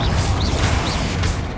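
Confringo blasting curse in Hogwarts Legacy, a loud brief burst with a crashing, whooshing impact and short bright zips over a rumbling low end.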